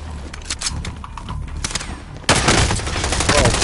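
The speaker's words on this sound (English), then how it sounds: "Receiving hostile fire." Heavy automatic gunfire in a Call of Duty Warzone Resurgence quad match, sporadic bursts at first, then a loud sustained barrage of rapid shots from about halfway through.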